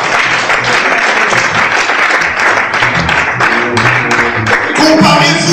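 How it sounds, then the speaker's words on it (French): Loud applause fills a church service, a dense burst of hand clapping that carries on for several seconds, with a voice rising over it near the end. "Applaudissons Jésus."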